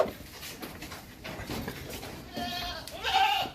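Goats in a farm goat pen with cages for pregnant does give a few short bleats over steady pen noise, rising louder toward the end, with no talking.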